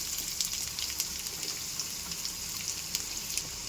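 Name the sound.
onion frying in oil for kuli paniyaram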